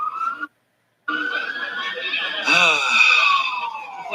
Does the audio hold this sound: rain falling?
no